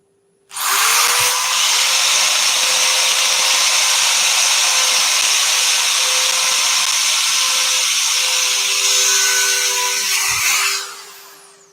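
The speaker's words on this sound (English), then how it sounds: "sanding so heavy that things are getting really hot, because that end grain just will not put up with it" Heavy power sanding of a turned yew hollow form's end grain: a loud, steady high whirring rasp starts abruptly, holds for about ten seconds, then winds down, with no talking.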